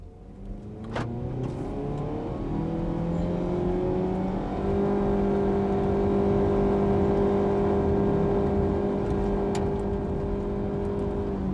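A 2007 Jeep Patriot with a CVT accelerating hard to 100 km/h, its engine droning at a loud, steady high pitch from inside the cabin as the gearbox holds the revs, with no voices.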